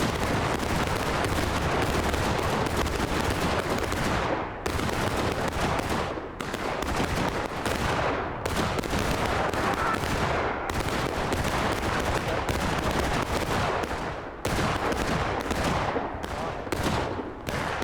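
Dense, continuous musket fire in the War of Rights game on the Hagerstown Turnpike map: overlapping volleys and scattered shots crackle close and loud for nearly eighteen seconds, with only brief dips between bursts.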